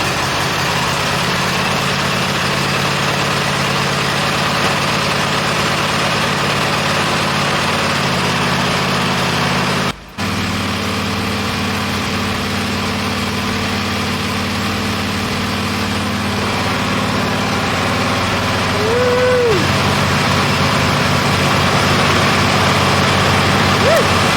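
A Husqvarna lawn mower engine runs with the choke still on, giving a loud, steady idling drone close by. The pitch shifts slightly partway through, and a voice briefly comes in over it.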